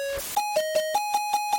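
A crowd sample crushed by quantize distortion turns into a buzzy, pitched stutter of about eight evenly spaced pulses, loud and up close, alone without talk.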